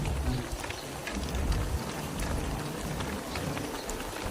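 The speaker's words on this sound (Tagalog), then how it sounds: "Lumakas na naman yung ulan." Heavy rain falls steadily outdoors near Sun Moon Lake in Taiwan, a dense continuous hiss and patter with no voices over it.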